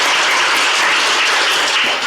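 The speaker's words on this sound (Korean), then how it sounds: "축사해주신 신성범 의원님께 다시 한번 큰 박수 부탁드립니다" Sustained crowd clapping at a Korean unification forum seminar for congressman Shin Seong-beom, a thick, even wash of many hands that holds steady throughout with no voices on top.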